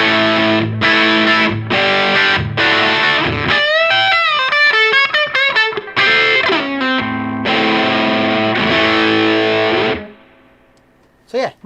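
An electric guitar runs through an overdrive pedal at max gain, giving a thick, chewy Marshall-style crunch. Loud strummed chords and a run of single notes ring out up close before the sound cuts off.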